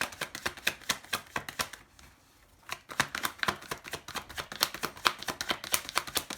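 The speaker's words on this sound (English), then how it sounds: "Do you want me to shuffle again?" Tarot cards are shuffled close by, a quick series of crisp riffling snaps with a short pause partway through before the shuffling resumes. The sound is fairly quiet.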